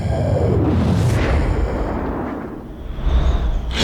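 A homing rocket from the 2005 Fantastic Four film blasts apart in a loud, rumbling explosion with a descending whoosh, debris roar filling the clip and a fresh burst near the end.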